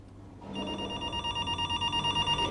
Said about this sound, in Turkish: Eyvah! Telefon.